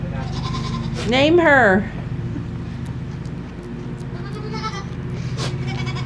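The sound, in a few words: pregnant goat bleating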